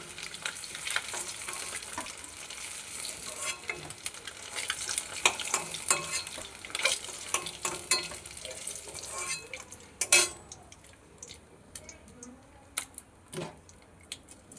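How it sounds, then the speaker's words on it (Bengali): Eggs frying red-brown in hot oil in a pan for an egg do-pyaza, a steady close sizzle with scattered stirring scrapes and clinks of a spatula against the metal. "ডিমগুলো লাল লাল করে ভেজে নিয়েছি"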